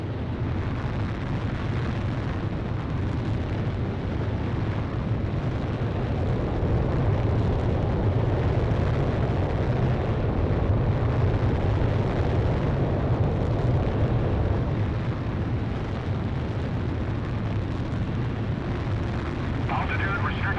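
A fighter jet takes off in the video game Ace Combat Zero with a loud, sustained roaring rush that swells and holds throughout, with a voice speaking over it.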